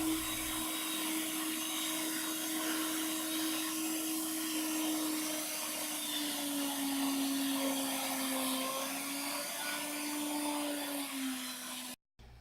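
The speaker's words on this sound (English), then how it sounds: "I can then lower my router or plunge my router down and make a long arched" Plunge router cutting a long arched radius cut in wood, a loud continuous whine with a slowly shifting pitch that holds for about twelve seconds before stopping abruptly.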